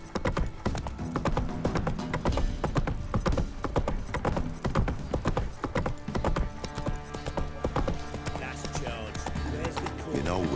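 Roach the horse gallops in The Witcher 3, a steady, fast clip-clop of hooves that runs close and loud throughout, with a faint whinny toward the end.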